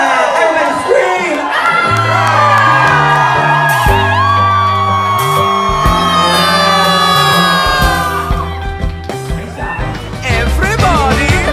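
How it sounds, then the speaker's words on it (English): Crowd at a Pride party screaming and whooping loudly over pumping music, with sustained high-pitched cheers and yells rising and falling across the whole stretch. "Everybody scream!"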